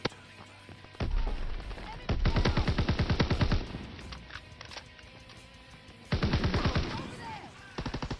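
Gunfire from the video game Call of Duty: World at War 2, in several bursts of rapid automatic shots separated by quieter stretches, loud and close amid game ambience.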